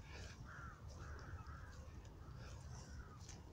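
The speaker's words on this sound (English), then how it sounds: "You can always hear crows." Crows caw faintly in the distance around old reused Roman stonework at ancient Mamucium, a few harsh calls scattered over low wind rumble.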